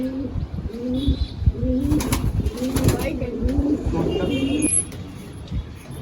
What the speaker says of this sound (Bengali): কালো জিরিয়ার মধ্যে সবচেয়ে ফেভারিট পায়রা আমার এই জোড়াটাই